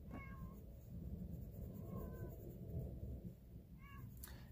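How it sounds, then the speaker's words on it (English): A neighbour's cat meows outside, three short distant meows spaced about two seconds apart, faint over a low rumbling background with no speech. "that is not my cat, if you can hear it meowing"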